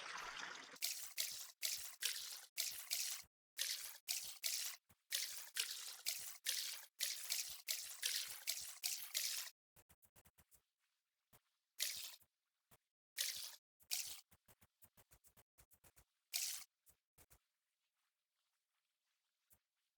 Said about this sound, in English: Water my crops.